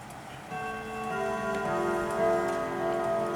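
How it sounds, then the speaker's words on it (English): A Howard Miller Bloomsbury clock chimes with sustained, ringing tones that overlap and layer over a faint steady ticking, close by and clear with no talking. "Let you hear the chimes."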